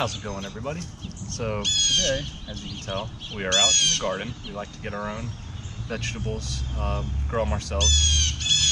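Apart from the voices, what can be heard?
loud birds, crows squawking in garden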